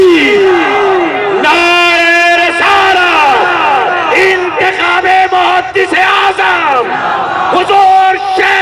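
A large crowd at a religious gathering shouts Allahu Akbar in loud, repeated unison chants answering the call of Nara-e-Takbir, voices bellowing in waves close and strong.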